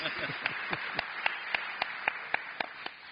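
Rhythmic group clapping for Steve Wozniak at a knowledge summit conference, with sharp, evenly spaced claps over a low background murmur of the audience.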